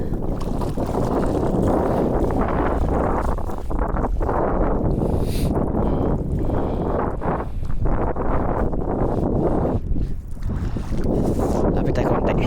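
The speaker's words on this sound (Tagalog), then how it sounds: "Sobrang lakas pala ng hangin." Strong wind roars and buffets against the microphone in heavy, uneven gusts out at sea, with water and boat noise churning underneath.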